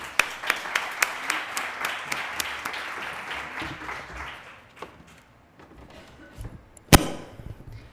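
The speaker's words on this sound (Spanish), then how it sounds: "Un aplauso para Begoña." At a conference session, an audience applauds the arriving speaker with steady clapping that gradually thins and fades, a single loud knock near the end as someone steps up.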